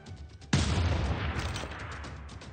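A single heavy boom from a siege cannon in a strategy video game hits suddenly and rolls into a long rumbling decay, like distant cannon fire.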